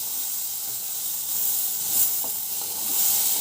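Drumstick pieces and potatoes fry in hot oil in a pan, a steady soft sizzle and hiss with a few faint stirring clicks, heard close and alone.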